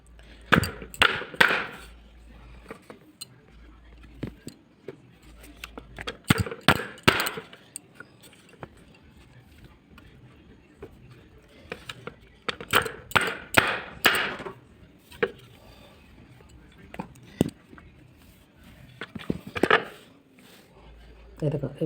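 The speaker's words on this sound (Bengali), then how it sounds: "এই দেখো এভাবে কেটে নিচ্ছি, ছোটো বড়ো সব সাইজেই কাটছি।" A knife chops mango into small pieces on a board, bursts of sharp close knocks with pauses between, and a voice speaks now and then.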